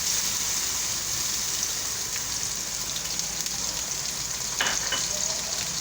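Onions and garlic crackle and sizzle steadily in a hot pan, a dense continuous frying hiss with a few louder pops and stirs.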